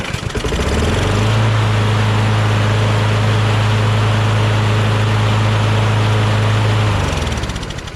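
A John Deere JS26 self-propelled bagger lawnmower engine, just out of storage, runs loud and steady close by with a strong, even drone that holds for several seconds before cutting off.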